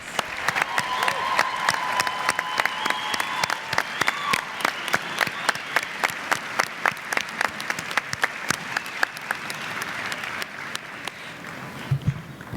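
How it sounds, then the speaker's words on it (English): Sustained applause from a large crowd for graduates at the Peabody commencement, steady clapping throughout, loud and close, with a few scattered voices mixed in. "Let's give all the graduates a wonderful round of applause."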